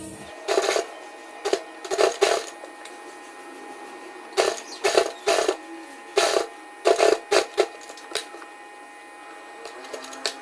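A sewing machine stitches lace onto the neckline of a suit, running in short close bursts of rapid mechanical whirring separated by pauses, with no talking.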